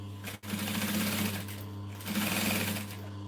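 A sewing machine runs a basting stitch along the edge of a Linette business bag, a steady fast mechanical whir close by with a brief stop near the start before the stitching resumes.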